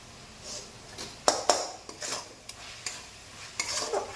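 Vegetables for hakka noodles, seasoned with salt, are stirred in a pan with a light background sizzle and a run of distinct metal spatula clanks and scrapes at uneven intervals, close and fairly quiet, without talking.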